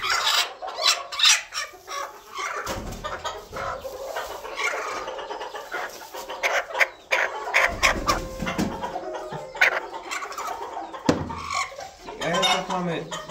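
Chabo, cochin, phoenix and silkie hens clucking nearby in a coop alongside ducks, with intermittent bursts of clucks, rustling and clatter.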